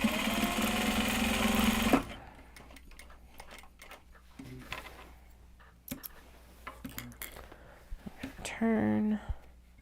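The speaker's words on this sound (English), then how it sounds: "And we're going to sew it. We can sew it down from this side." Sewing machine stitching the end seam of a bag: a loud rapid mechanical whir for two seconds, then quiet handling clicks and a brief second burst of stitching near the end.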